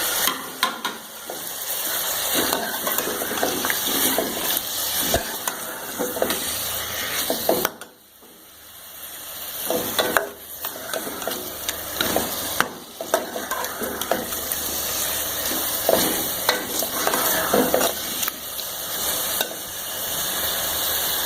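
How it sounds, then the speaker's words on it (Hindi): Garlic ginger paste sizzles and spatters in a hot pan while a spoon scrapes and stirs it, a steady close crackle with brief pauses. "इसमें हम डाल देंगे 3 टेबल स्पून के करीब लहसुन अदरक का पेस्ट। इसके साथ भूनेंगे।"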